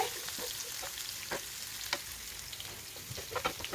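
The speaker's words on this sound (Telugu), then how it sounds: "పోపు వేసుకొని అందులోకి ఆనియన్, గార్లిక్ వేసి దోరగా వేపుకోండి." Onion and garlic frying in a hot pan with tempering spices, giving a steady close sizzle and crackle with occasional sharper pops and stirring scrapes, no voices.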